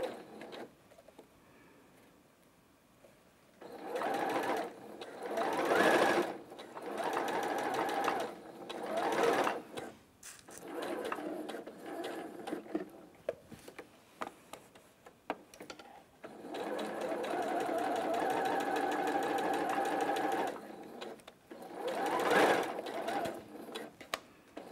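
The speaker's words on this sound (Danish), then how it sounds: "Men nu vil jeg sy min midt bag" A sewing machine sews the center back seam of a garment in several bursts of close, steady whirring, some short and one long sustained run, separated by brief pauses and handling noises.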